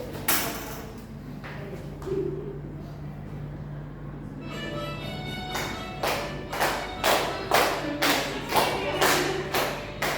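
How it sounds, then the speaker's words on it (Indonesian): An Indonesian school class doing the tepuk semangat clapping chant in a social studies lesson: a run of loud, rhythmic group claps near the close, after a stretch of quieter room noise and scattered taps. "Kita mau tepuk semangat."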